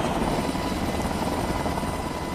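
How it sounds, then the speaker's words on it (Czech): A police helicopter flies over Sequoia National Park in California during a raid on an illegal cannabis field, its rotor and engine roar loud, steady and continuous throughout. "Jeden tým se spustí z helikoptéry a setkává se s pozemními agenty."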